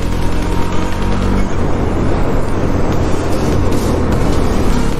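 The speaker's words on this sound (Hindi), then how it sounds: "और बाइक का साउंड इतना प्यारा निकल रहा ना" A motorcycle engine drones steadily while riding on an empty mountain road through a valley, a loud, close, continuous low rumble mixed with wind rush, holding an even level with no talking.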